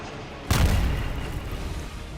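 A bomb explodes in Gaza during an aerial bombardment: one sudden, fairly distant boom followed by a rumbling decay, fairly faint overall, with no voices.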